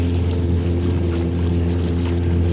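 A speedboat's engine drones steadily as it heads off near a dam with lock gates and a hydroelectric power project at Patratu. The low hum stays loud and even throughout, with no voices.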